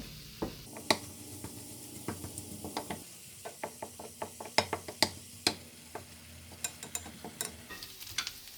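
Minced pork stir-frying in a hot pan over medium-high heat, a spatula scraping and knocking repeatedly in an uneven rhythm over a faint background sizzle.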